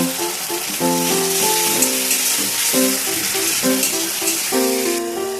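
Grated tomato hits a pan of browned onions and sizzles with a steady bright hiss, partly masked by melodic background music playing over it the whole time.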